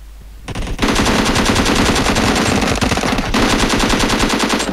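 Loud, sustained automatic gunfire from the mobile battle royale game PUBG Mobile, rapid bursts rattling almost continuously for several seconds with a brief lull partway through.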